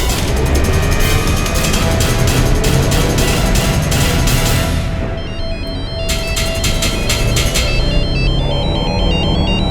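A loud electronic phone ringtone plays a repeating melodic pattern, pauses briefly, then resumes ringing over steady background noise.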